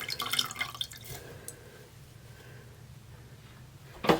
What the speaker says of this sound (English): you can hear how much water I'm squeezing off of that